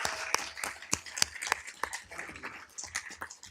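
Applause at a city council meeting, a small group clapping in sparse, uneven bursts, moderately close and fading out over a few seconds without talk.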